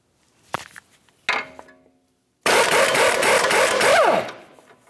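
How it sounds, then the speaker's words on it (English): A tool loosening the 21mm nut on a front sway bar link at the strut of a Ford Flex: two brief clicks and a clank, then a loud two-second buzzing rattle of the tool working the nut. "Let's start by removing our 21mm nut that holds the sway bar link to the front strut."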